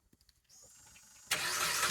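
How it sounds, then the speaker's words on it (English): A cold 2.4-liter Jeep Patriot engine with its large stock muffler cranks briefly after a few faint clicks, then catches and settles into a steady, muted running sound. "Boy, that's a cold start"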